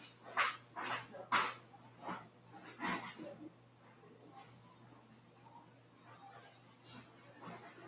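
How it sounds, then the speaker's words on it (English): A pet dog barking indoors, a run of sharp, fairly close barks at irregular intervals, louder early on and trailing off to scattered yips, with a steady low hum behind. "my dog's barking so much"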